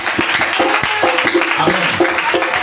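A church congregation claps steadily together, in rhythmic applause mixed with crowd noise and voices throughout.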